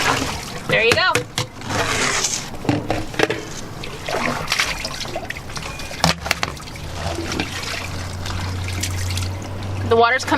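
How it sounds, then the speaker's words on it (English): Rinse water gushes and trickles from an RV black water tank hose, a steady splashing flow with scattered knocks and handling noises, a voice talking over it. "the water's coming out clean the other end"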